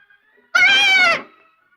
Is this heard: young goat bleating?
yes